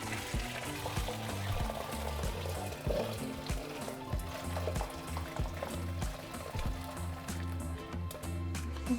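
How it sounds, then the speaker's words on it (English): Chicken broth poured through a strainer in a kitchen, a steady, low pouring and splashing rush of liquid that runs continuously and fairly quietly, with no talking. "Okay, so we're going to strain our broth."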